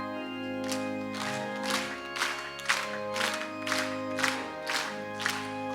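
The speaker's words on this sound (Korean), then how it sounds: "힘차게 박수를 치고" A church congregation claps in a steady beat along with an organ-backed hymn at a Wednesday evening dedication worship service, the claps landing about every half second over sustained music.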